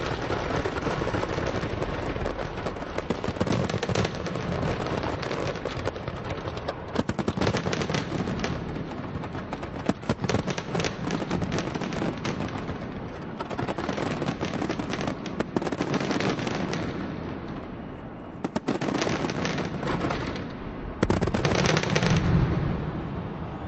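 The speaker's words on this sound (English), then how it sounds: "You don't see fireworks like this every day, so sit back and enjoy this amazing display." A London New Year fireworks display in 2008 fills the air with a near-constant barrage of crackling bursts, sharp bangs and rapid popping. Brief lulls break up the long, loud volleys.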